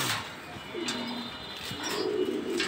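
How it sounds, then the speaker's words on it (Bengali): Racing pigeons coo nearby, a few soft, low, rolling calls spaced over a couple of seconds, with faint rustling and chirps around them. "এই যে কবুতর"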